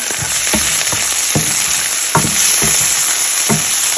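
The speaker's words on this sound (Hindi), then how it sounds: "इसको भी हल्का सा हम करेंगे फ्राई" Onions fried with ginger garlic paste in a pan for a goat liver dish, a loud continuous sizzle with a few stirring scrapes, close up, no voices.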